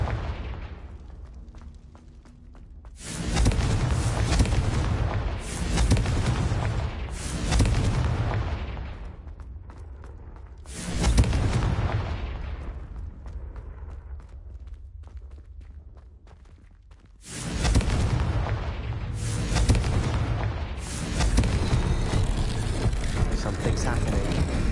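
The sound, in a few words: Confringo blasting spell explosions, from video game Hogwarts Legacy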